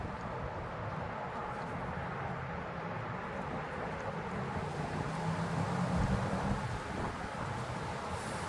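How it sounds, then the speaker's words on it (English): Outdoor wind during a water pump replacement on a second-generation Honda CR-V forms a steady, low, rushing roar that swells slightly midway. "It is windy, y'all. It is windy."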